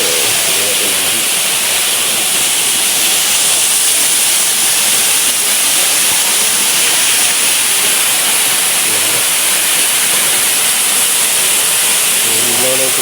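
Cancel Falls, a waterfall with strong water pressure, roars as a loud, steady wash of broadband rushing water close by, continuous and unbroken throughout.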